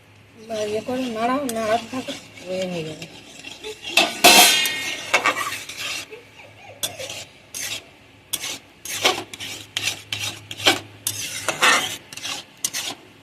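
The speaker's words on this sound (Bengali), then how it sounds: "এইভাবে নেড়ে নেড়ে আমি একটা ডো মতো তৈরি করে নেব" A spoon scrapes and rubs around a pan as semolina and milk are stirred into a dough for a sweet, giving repeated gritty strokes in an uneven rhythm, close by, with someone talking over the start.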